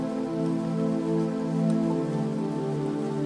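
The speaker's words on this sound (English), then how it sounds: "as the gentle rain continues to fall" Gentle rain falling steadily, a soft even patter layered under a sustained low droning tone, calm and unbroken throughout.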